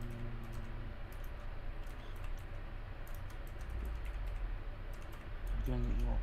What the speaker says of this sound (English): just typing a bunch of generic answers